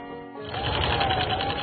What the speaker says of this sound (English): If Campbell could be on that sewing machine 24/7, he would